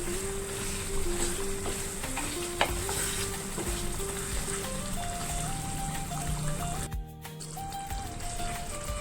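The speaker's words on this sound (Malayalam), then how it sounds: "നന്നായിട്ട് മിക്സ് ചെയ്ത് കൊടുക്കുക" Chicken vindaloo stirred in a pan, with a soft continuous sizzle and spoon scrapes close by under light background music.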